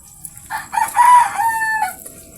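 A rooster crows once, loud and close, a drawn-out cock-a-doodle-doo over a quiet background.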